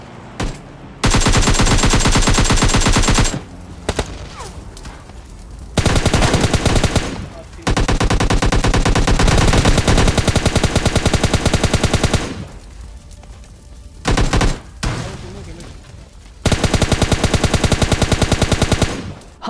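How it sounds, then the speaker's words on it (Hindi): Sustained bursts of rapid automatic gunfire from a video game rattle loudly in long continuous stretches, broken by brief pauses and a few short bursts, with faint talk in the quieter gaps. "हवाओं में गोलियां चला रहे हैं यार"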